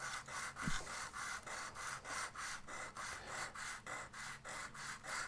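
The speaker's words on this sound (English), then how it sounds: "just some more preparatory sanding with the bias on that proud edge" Sandpaper is rubbed back and forth over the proud edge of a plastic model kit part, a close, rhythmic rasping stroke repeated about a dozen times at a steady pace.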